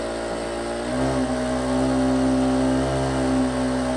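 A Jack industrial sewing machine motor whirs steadily at high speed, a droning mechanical hum with a slight rise in pitch partway through, loud and continuous.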